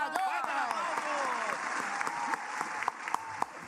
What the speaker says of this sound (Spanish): Muy bien, fuerte el aplauso para Jonathan.